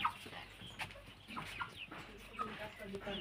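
Broiler chickens roam a home yard, clucking in short, soft bursts that repeat through the clip. The sound is fairly faint and close, with a few overlapping calls and no talk.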